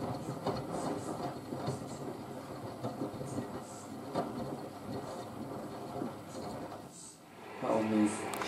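A Miele W562 washing machine drum tumbling at 55 RPM, giving a steady rhythmic clatter and swish of turning laundry, moderately quiet, with a brief louder knock near the end.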